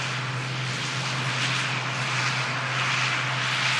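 A propeller aircraft taxis past at Manchester Airport with a steady engine drone and a low, constant hum underneath, holding even and fairly close for the whole stretch.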